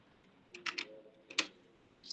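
Computer keyboard typing a short command for the nuclei web security testing tool, a quick burst of clustered keystrokes with a pause, then a few more taps, close and clear in a quiet room.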